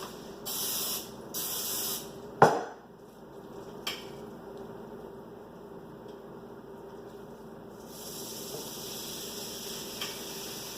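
Two short hissing bursts of cooking spray onto a waffle iron, then a sharp metallic clack and quiet, followed later by a longer spray hiss, close up.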